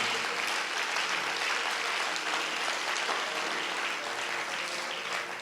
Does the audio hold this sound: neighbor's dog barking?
no